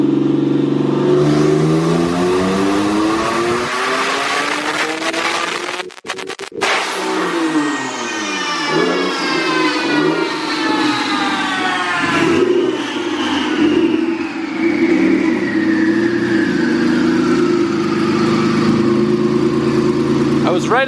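A forged twin-turbo car engine on a dyno pull revs loudly and climbs steadily in pitch, then cuts off with a sharp pop and winds down through a falling, whining deceleration.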